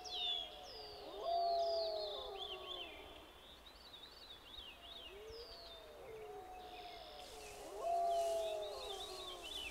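Distant wolves howling in a northern moose forest, long rising and falling wails repeating at intervals over a background of bird chirps and calls.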